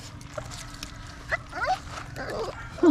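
A dog gives faint, high yips and whimpers in scattered bursts over a steady low background hum, sounding somewhat distant.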